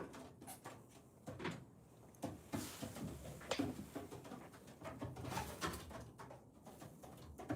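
Soft racing pigeon coos repeat close by amid scattered knocks and rustles inside a pigeon loft, with no voices.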